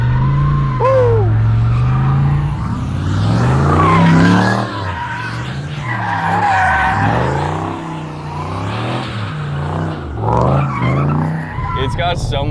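A Nissan 350Z with an LS V8 swap slides hard, its engine roaring loudly and tires squealing in long howls that rise and fall through the drift, close up and continuous.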